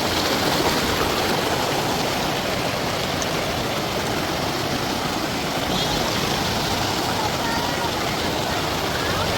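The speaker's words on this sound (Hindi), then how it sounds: "बहते पानी की आवाज़ बड़ी सूदिंग होती है" Water flowing steadily over stones in a mountain stream at a hill station, a dense, continuous broadband rush heard up close with no breaks.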